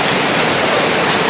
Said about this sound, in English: It's hailing inside, it's coming through the roof over there.